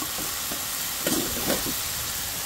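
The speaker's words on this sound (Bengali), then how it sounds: "খানিকটা বাদামটা দিয়ে দিলাম এর মধ্যে এবং এটাকে খুব ভালো করে নাড়তে থাকলাম" Vegetables with peanuts stirred in a pan over a constant hiss of cooking, with a few brief scraping stirs of the spoon standing out in the middle.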